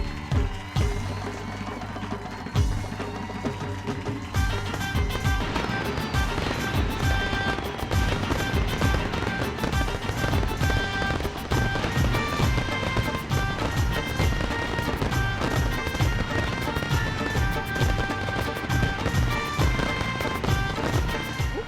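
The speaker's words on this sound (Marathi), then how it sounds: "अय्यर भाऊ आज तर फटाके पण खुश झाले" Firecrackers burst in rapid, continuous crackling volleys through the whole stretch, dense and loud, greeting a car's arrival at a residential society celebration.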